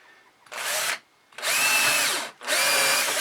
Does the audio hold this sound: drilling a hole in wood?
yes